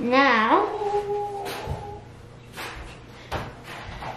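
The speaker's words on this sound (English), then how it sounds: "that's our dog." A dog gives a wavering, rising howl or whine near the start, followed by quieter moments while a person talks indoors.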